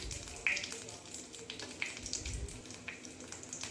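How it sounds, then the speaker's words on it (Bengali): Whole cumin seeds, panch phoron and a dried red chilli broken in two fry in hot oil, giving a quiet, steady sizzle with a few sharp crackles and pops. "তেলটা গরম হলে এর মধ্যে দিয়ে দিচ্ছি 1 টিস্পুন মতো গোটা জিরে আর 1/2 টিস্পুন মতো 5 ফোড়ন"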